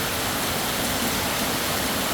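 In Tha Muang, Kanchanaburi, a heavy rainstorm sends runoff streaming along, giving a near, continuous roaring hiss at a steady level from start to finish, with nobody talking.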